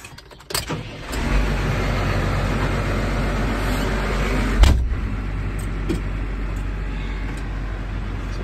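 A tractor with a front loader runs steadily at close range, its engine giving a constant low rumble while the loader is raised, with a short louder clunk midway and no talk.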